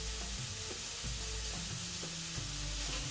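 Meat sizzles and fries steadily in a pan seasoned with pepper, garlic and paprika, a continuous close crackle with no talking.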